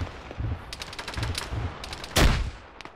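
Video game combat with bursts of gunfire and a frag grenade explosion, several gunfire bursts ending in a loud, close detonation that fades out.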